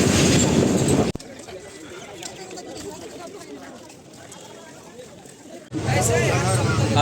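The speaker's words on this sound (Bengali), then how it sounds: "এই যে আমরা ট্রেনে উঠে গেছি, দেখছেন খাগড়াঘাট স্টেশন থেকে।" Inside a crowded passenger train boarded at Khagraghat station and bound for Bandel, loud rumbling running noise at the start and end with a quieter middle stretch full of chatter and voices.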